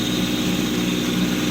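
A Kubota compact tractor blowing snow on a frozen pond rink, its engine and blower giving a loud, steady droning hum with a constant whirring rush and no variation.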